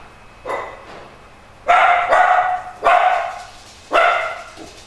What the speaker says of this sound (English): Is it a big vicious dog that you heard?